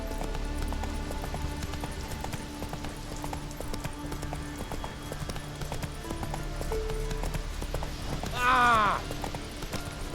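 Horse galloping in The Witcher 3: Wild Hunt, steady hoof clatter running throughout under game music, with a brief louder vocal burst near the end.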